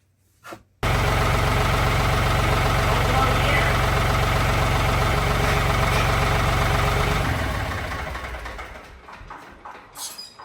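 A tractor with a faulty clutch idles with a steady low engine rumble, close and loud, then winds down and fades near the end.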